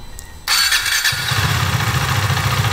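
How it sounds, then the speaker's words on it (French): A Husqvarna Svartpilen 401 motorcycle's single-cylinder engine is started and settles into a steady, close idle with a low rumbling throb, no speech. "Et là, on va faire tourner le moteur au ralenti 10 minutes."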